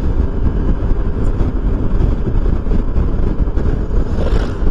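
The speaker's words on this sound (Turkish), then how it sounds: "Yalnız felaket bir rüzgar var." Strong wind roars and buffets a microphone outdoors in a loud, dense, continuous rush with no voices.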